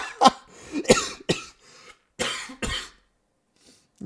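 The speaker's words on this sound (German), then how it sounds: "Kriege immer einen Hustenreiz" A man coughs about five times in short, harsh bursts, close and fairly loud, with brief pauses between them and a throat-clearing quality.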